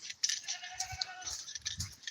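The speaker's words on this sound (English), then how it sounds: "You can hear the goats there." Goats bleat a few times at a moderate distance in rural Jamaica, wavering calls over a steady outdoor hiss with light rustling nearby among pineapple plants.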